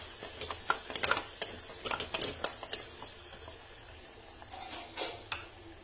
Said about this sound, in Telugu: ఇది కొంచెం పచ్చివాసన పోయేలాగా మనం ఫ్రై చేసుకుందాం.